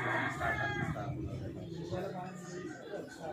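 Gamefowl roosters at a breeder's farm crow a few times in the background while someone talks over them in the foreground.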